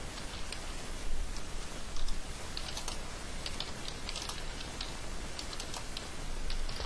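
Light keystrokes on a computer keyboard tick away in quick, uneven bursts, faint and close against a steady background hiss, with no talk.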